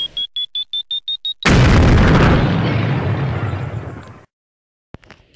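A chocolate Easter egg bomb goes off as a comic effect. Rapid beeping pulses lead into a loud, sustained blast that roars for a few seconds and then cuts to silence with a couple of faint clicks.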